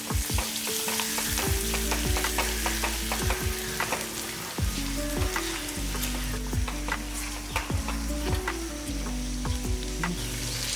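Boiled eggs sautéing with masala and curry leaves in a pan over a slow flame for egg gravy, a steady close sizzle broken by repeated scraping stirs and light clinks throughout, with no voices.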